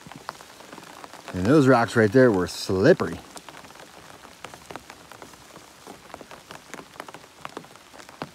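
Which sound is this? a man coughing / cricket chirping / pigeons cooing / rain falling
rain falling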